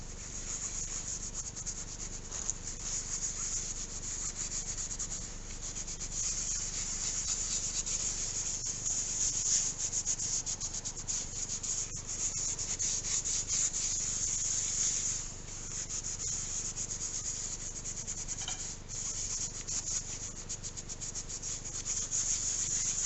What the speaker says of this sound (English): Give it some more scouring